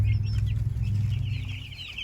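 Broiler meat chickens on a small pastured farm cluck continuously and fairly close, a busy overlapping chorus over a steady low rumble, with no talking.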